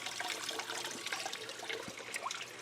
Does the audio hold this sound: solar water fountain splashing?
yes